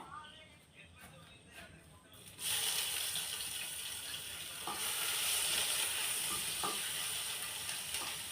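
Loud crackling sizzle of crushed ginger, garlic and green chilli hitting hot oil for a fish curry, starting abruptly after a quieter stretch and continuing steadily with occasional scraping stirs.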